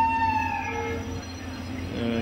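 Rewari–Delhi passenger train pulling out of the station, a steady low rumble with tonal squeals and whistle-like lines from the wheels and horn, moderately close, without speech.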